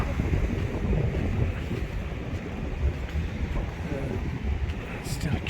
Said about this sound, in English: You can hear the sea rather than the wind.